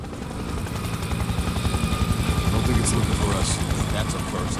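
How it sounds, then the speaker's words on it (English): A military helicopter approaches in the Spec Ops: The Line video game, its steady rotor throb and engine drone growing louder across the rooftop setting, with game voices talking over it. "Incoming helo."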